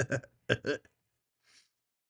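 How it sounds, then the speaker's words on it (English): Close throat clearing comes in two rough guttural bursts, then a short faint breathy sound before silence. "Let me clear my throat."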